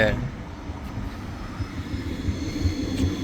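A steady low rumble of a moving tram in Germany with rolling, droning noise throughout, a faint voice briefly mixed in.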